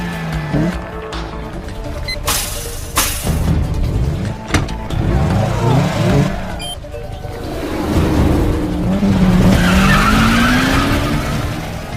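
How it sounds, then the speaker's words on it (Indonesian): A Subaru Impreza WRX STI races a white Mitsubishi Lancer Evo 10 in a street race, with loud engine roars, repeated tire squeals and skids, and whooshing passes throughout. "mobil Subaru Impreza WRX STI langsung gaspol melawan Tony dengan mobil Mitsubishi Lancer Evo 10 warna putih miliknya"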